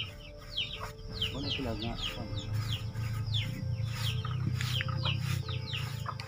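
Silkie and Rhode Island Red cross chickens on a free-range farm, steady clucking and chirps from several birds at close to mid distance, with a person speaking briefly.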